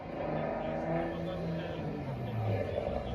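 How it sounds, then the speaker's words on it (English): A pulling truck at a truck and tractor pull roars with a loud, sustained engine howl, revving hard over a dense crowd-like wash with commentary voices faintly mixed in. "Nice sounding truck."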